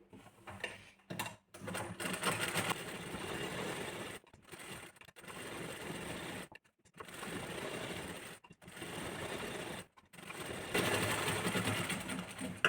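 Sewing machine stitching blouse fabric, running in steady bursts of rapid mechanical chatter separated by short pauses, close and fairly loud with no talking.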